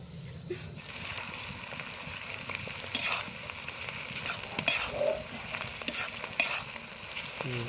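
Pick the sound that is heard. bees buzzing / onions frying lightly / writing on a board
onions frying lightly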